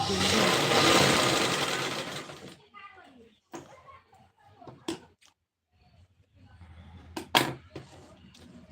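A sewing machine stitching a blouse sleeve whirs loudly and continuously for about two and a half seconds, then stops, followed by someone speaking and some light handling sounds.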